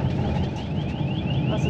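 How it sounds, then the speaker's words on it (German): A car alarm sounds steadily on a street in Antalya, heard from inside a moving camper van with constant road and engine rumble underneath, its repeating rising tones continuing throughout. "Was ist das? Alarmanlage."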